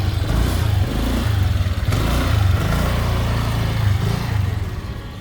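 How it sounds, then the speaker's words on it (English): Motorcycle engine chugging close by as it moves through a busy clothing market in Bangkok, a loud low rumble with rhythmic pulsing and revs, fading slightly at the end amid background market bustle. "I could definitely hear a motorcycle coming through."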